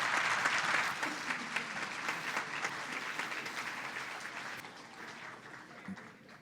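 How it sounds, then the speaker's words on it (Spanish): A university debate audience in Bogotá breaks into loud, sustained applause that gradually thins out and fades toward the end. "Un aplauso."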